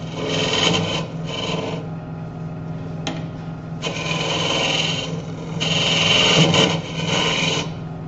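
A skew chisel smooths soft wood for a bird feeder with a series of raspy scraping strokes, each lasting about a second, separated by brief pauses and a sharp tap, close and moderately loud with no talk.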